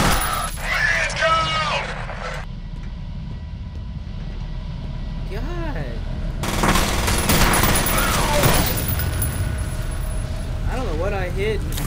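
Shotgun blasts in the first-person shooter F.E.A.R., sharp broadband bursts amid loud game noise and explosions, with someone talking over the gunfire at several points.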